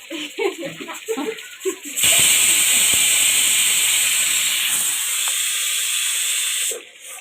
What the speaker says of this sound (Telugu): డీప్ ఫ్రై అవుతుండగా ఇటువంటి పల్చాటి గరిటెతోటి మనం ముక్కల్ని మెల్లగా చాలా జాగ్రత్తగా తిప్పుకోవాలి